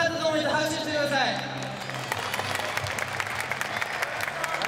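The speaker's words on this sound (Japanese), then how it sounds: "いや面白かったと思って拍手してください" Audience applause fills a kickboxing event hall after a TWOFC fight, a dense patter of clapping that starts under a voice over a PA and then runs on steadily by itself.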